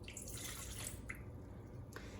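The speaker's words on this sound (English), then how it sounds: "you want to dump the water into your bowl" Water splashes and trickles into a container in a short, fairly quiet pour.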